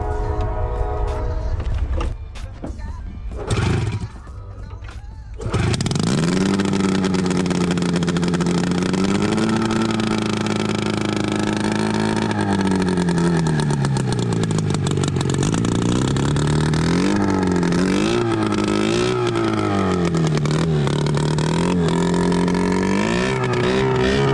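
A flooded Yamaha Phazer snowmobile engine sputters, then catches and runs loud and steady, revving up and down repeatedly for about twenty seconds.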